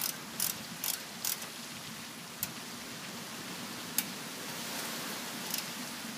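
A service wrench works a liquid line valve on a refrigerant system, giving a few faint ratcheting clicks and isolated ticks over a quiet hiss.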